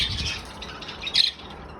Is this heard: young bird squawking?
yes